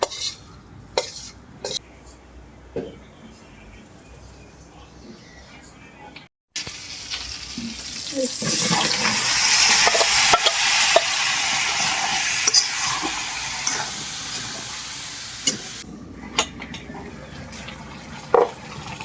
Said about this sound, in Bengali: মাছ আগে কষা লিবেন হ্যাঁ মাছ আগে কষাই লিব